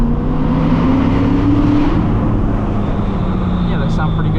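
Corvette C6 Z06 engine droning steadily from inside the car as it drives through tunnels, a loud continuous low rumble with a slight rise and fall in pitch.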